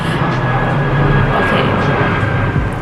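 An airplane passes overhead outdoors, a loud broadband roar with a faint whine that holds steady for the whole stretch, drowning out everything else.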